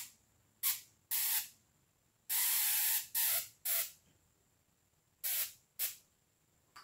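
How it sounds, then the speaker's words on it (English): Sharp bursts of crackling, hissing electrical discharge as sparks are drawn from the midpoint of a Tesla coil, about eight separate loud zaps of varying length over a faint steady hum. "if I draw a spark now from the midpoint"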